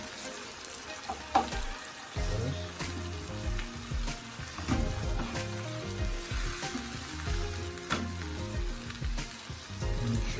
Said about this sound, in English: I'm just gonna mix up this with my wooden spoon